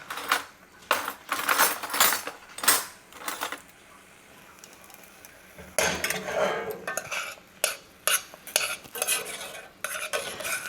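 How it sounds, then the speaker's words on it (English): A spoon stirs and scrapes a thickening pineapple bun mixture in a pot. Irregular scraping and clinking strokes come close and moderately loud, with a few quieter gaps. "Might be better to get a spoon so I can scrape that out."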